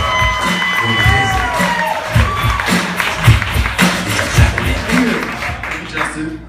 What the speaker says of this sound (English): Everybody, make some noise.